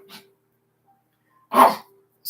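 Dogs bark from a distance in two separate bursts, one faint short yelp and then a louder single bark, with quiet between them.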